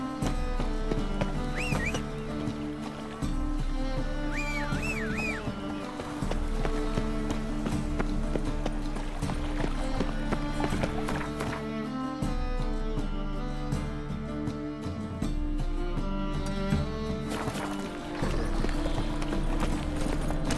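Geralt's horse Roach gallops in The Witcher 3, quick rhythmic hoofbeats drumming steadily throughout over a layered musical score, near and prominent, with no talk.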